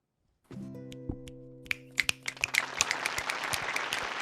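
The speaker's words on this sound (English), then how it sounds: "Erupts in applause." Applause in the video game Frog Detective: after a soft musical chord, a small group of sharp claps builds into a brisk, continuous patter of clapping that carries on to the end.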